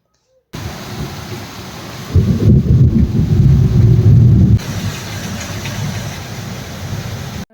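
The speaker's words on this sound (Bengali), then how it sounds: "বাইরে কী জোরে বৃষ্টি হচ্ছে" Heavy rain pours outside in a steady loud roar, swelling into a deeper, heavier rumble for a couple of seconds midway before easing back to the downpour.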